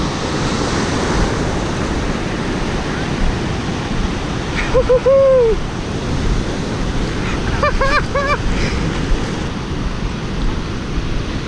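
California ocean surf rushes in a constant loud wash of breaking waves with wind buffeting the microphone, and brief high squeaks cut through partway.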